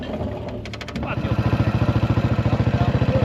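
A Yamaha 500 motorcycle engine at a used-bike lot idles and then settles into a loud, steady, rhythmic thump close to the microphone, with a brief faint higher rattle early on.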